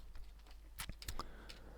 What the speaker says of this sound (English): I'm going to start typing clamp.